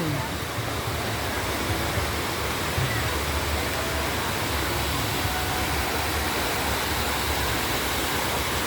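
Water from a cold natural spring flows out of a hole in the rock at Barangay Balbagan, Paranas, Samar. It makes a steady, even rushing and splashing that goes on unbroken throughout.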